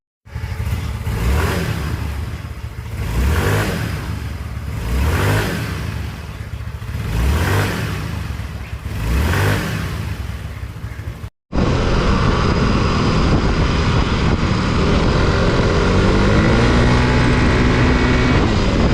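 A Yamaha Mio i 125 scooter fitted with a 1200 rpm center spring accelerates repeatedly in loud, rising engine surges that swell and drop several times. A brief cut follows, then a sustained, steady high-revving drone.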